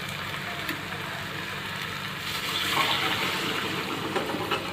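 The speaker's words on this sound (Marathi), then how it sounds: "ह्याच्यामध्ये आपण आता गरम पाणी टाकूया" Hot water is poured into a pan of stuffed brinjal curry, giving a steady splashing hiss that swells slightly louder partway through, with no talking.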